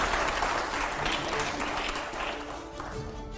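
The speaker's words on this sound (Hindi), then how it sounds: "पहले जोरदार तालियां यहां पर दिखाइए" Audience applause at a Hindi political talk show, a dense, loud and steady wash of clapping that fades slightly toward the end, heard alone with no talk.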